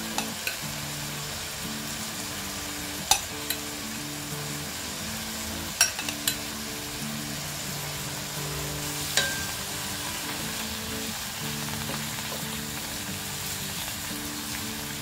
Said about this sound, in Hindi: 2 मिनट के लिए फ्राई कर लेंगे।